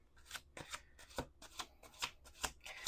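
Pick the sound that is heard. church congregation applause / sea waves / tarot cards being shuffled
tarot cards being shuffled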